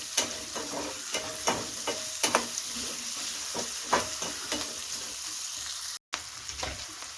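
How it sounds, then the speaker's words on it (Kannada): About ten garlic cloves fry lightly in oil with a steady soft sizzle, broken by occasional clinks and scrapes of a stirring spoon nearby, with a brief dropout near the end and no voices. "ಹಾಗೆ ನೋಡಿ ಒಂದು 10 ಎಸಳು ಬೆಳ್ಳುಳ್ಳಿ, ಇದನ್ನು ಲೈಟಾಗಿ ಫ್ರೈ ಮಾಡ್ಕೊಳ್ಳೋಣ"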